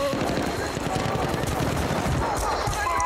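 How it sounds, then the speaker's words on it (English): Rapid automatic gunfire in Battlefield: Bad Company 2, a dense, continuous rattle of shots with a few sharper cracks, mixed with voices talking over the action. "No, we're getting shot again!"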